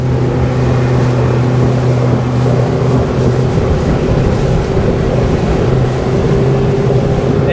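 A motorboat engine drones steadily and loudly throughout, with water rushing and wind buffeting the microphone; no talking.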